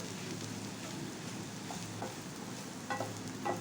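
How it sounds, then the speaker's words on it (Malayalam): Mashed potato and green peas stirred in a pan, a faint, steady soft sizzle and gentle scraping with a few small clicks of the spoon near the end, no talking. "നമ്മളിവിടെ പൊടിച്ചു വെച്ചിരിക്കുന്ന ഉരുളക്കിഴങ്ങ് ഇട്ട് കട്ടിയൊന്നുമില്ലാതെ നല്ലതുപോലൊന്ന് ഇളക്കി കൊടുക്കണം"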